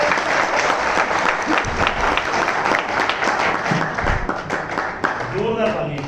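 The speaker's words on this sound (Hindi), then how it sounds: "एक बार जोरदार ताली।" An audience at a seminar bursts into loud, sustained applause, dense clapping filling the whole stretch while a voice speaks over it.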